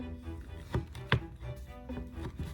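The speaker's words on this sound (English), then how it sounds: "Got a 1/2 cup cranberries here and a 1/2 cup of walnuts. We're just going to give them a light little chop" A knife chops half a cup of cranberries and half a cup of walnuts on a board for cranberry walnut bread, giving a few close, sharp, irregular thuds over a low room hum.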